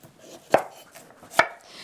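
Two crisp knife chops on a cutting board while broccoli stalk ends are trimmed, each a sharp, close thud about a second apart, in a quiet kitchen without talk.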